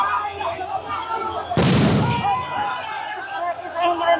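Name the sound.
police sound grenade explosion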